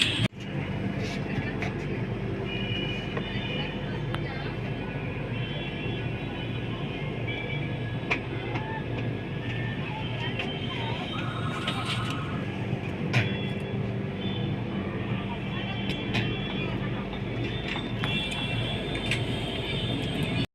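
A train crosses the Ganga river bridge at Prayagraj with a steady, dense rumble and rattle that runs unbroken throughout, heard from on board with faint chatter beneath.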